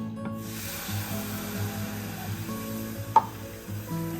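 Water is poured into hot semolina and answers with a soft hissing sizzle, steady and close, with a sharp click near the end and no voices.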